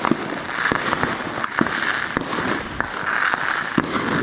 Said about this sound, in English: Caught on the fucking fireworks.